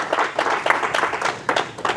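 Congregation clapping together at a church service, rhythmic hand claps in quick repeated bursts filling the room, steady and moderately loud across the whole moment.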